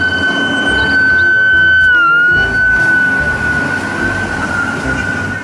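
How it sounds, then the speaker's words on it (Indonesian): A toy ambulance siren sounds as a steady electronic tone with a brief pitch dip midway, playing alone over low rumbling handling noise. "lihat teman-teman, ada mobil ambulan."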